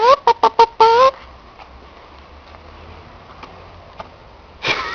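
A chicken in a video game clucks in four quick bursts and a longer squawk, loud and close, then faint game ambience and one more cluck at the end.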